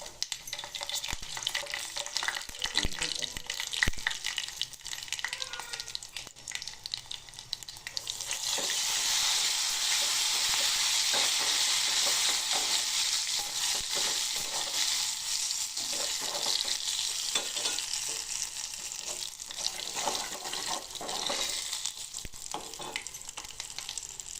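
Cumin and mustard seeds crackling in hot oil for chutney, a dense, continuous close sizzle and spatter that swells louder partway through and then settles to a steady fry, with no talking.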